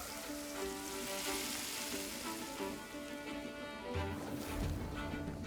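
Meat and peas sizzle as they cook in the Crimson Desert video game, a steady dense frying hiss with a faint bubbling texture that holds throughout without any talking.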